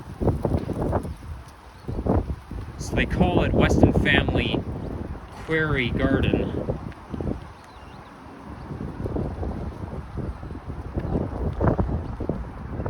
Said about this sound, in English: Whoa, it's getting windy out.